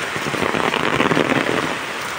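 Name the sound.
heavy rain pouring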